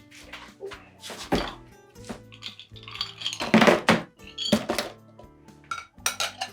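Ice and absinthe dumped out of a chilled cocktail glass while making a Sazerac, heard as a string of sharp glassy clinks and rattles in uneven bursts, close and fairly loud, with no talking.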